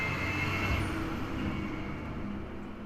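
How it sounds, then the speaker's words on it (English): A truck passes on a road, making a steady, broad rumble of engine and tyre noise that stays loud at first and then eases off slightly as it moves away. "I'm just going to wait for that truck, and listen to that"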